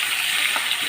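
Tomato pieces sizzling in hot oil in a pan with curry leaves and green chillies, a steady close frying hiss throughout.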